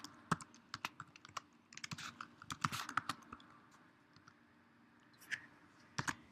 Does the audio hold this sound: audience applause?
no